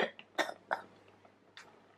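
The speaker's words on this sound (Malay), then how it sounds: "I tak suka batuk." A person clears their throat and coughs in a few short, sharp bursts, close and fairly loud, with quiet pauses between.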